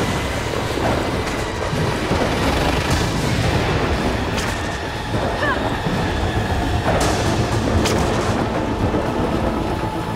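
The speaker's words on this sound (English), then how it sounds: "The train's gonna beat us to the bridge!" A heavy train in the video game Gears of War 5 rumbles past with a continuous roar and clattering, with occasional sharp cracks and booms over the din.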